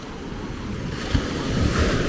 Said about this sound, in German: Da kommt immer noch Wasser über den letzten Wellenkamm